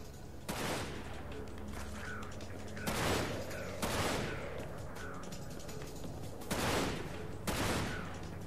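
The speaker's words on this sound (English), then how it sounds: "I am running out a little bit of ammo, so I'm going to switch to my rifle." Rifle gunfire in Dirge of Cerberus: Final Fantasy VII, five or six heavy, booming shots spaced irregularly about a second apart, each with a ringing tail over a low background hum.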